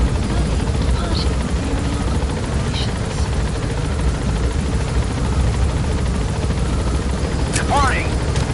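A helicopter departs in the Metal Gear Solid V video game. A loud, constant rotor roar and rushing wash fill the whole stretch, with a few faint chirps on top.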